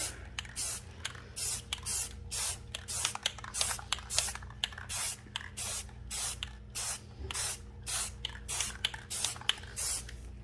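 Repeated bursts of an aerosol spray-paint can hiss in regular short pulses while painting clothespins, separated by brief pauses, close and moderately loud.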